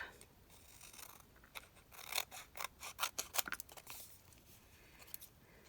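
Scissors snip through leftover envelope paper while trimming a piece to size, a quick run of crisp, close cuts that cluster in the middle and then taper off.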